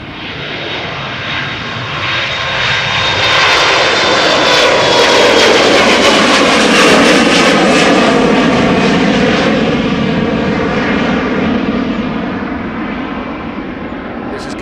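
An Embraer 175 jet departing Amsterdam Schiphol Airport, its engines swelling into a loud sustained roar and holding close by before easing slightly as it climbs away.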